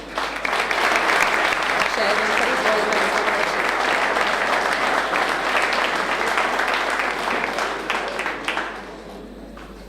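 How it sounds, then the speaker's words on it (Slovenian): Steady applause from the audience at a 2016 formal municipal council session in Brda, greeting award winners. It stays dense and even for about nine seconds, then thins out near the end, and a man's brief spoken words come over it. "kar pospremimo jih z aplavzom"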